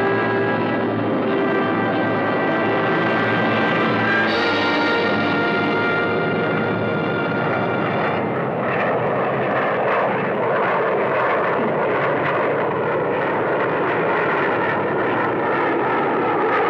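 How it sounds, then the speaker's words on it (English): Avro CF-100 twin-jet fighter on its first takeoff, its two jet engines roaring loud and steady throughout, a harsh broadband rush with a rising whine that swells and then churns on without pause. "The CF-100 is ready for her first takeoff."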